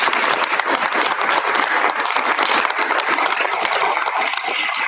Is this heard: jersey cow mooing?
no